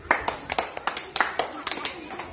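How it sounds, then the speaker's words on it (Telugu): Children clap in a classroom quiz game, a quick run of about a dozen sharp, close claps in uneven bursts with no talk over them. "Very good, claps."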